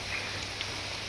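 Rain falls steadily in a short burst of dense, even hiss, close and uninterrupted, with no voices over it.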